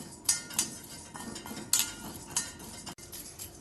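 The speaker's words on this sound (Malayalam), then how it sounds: "ഇതിന് ഇളക്കി വറുത്തെടുക്കാം." A spoon scrapes and clinks against a hot frying pan while parboiled matta rice is stirred and dry-roasted, with sharp metallic taps at irregular intervals over a soft rustle of grains.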